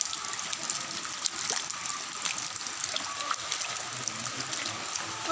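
A small stream gurgles and splashes steadily during rain, a continuous bright watery rush with scattered trickling drips, close by and with no voices.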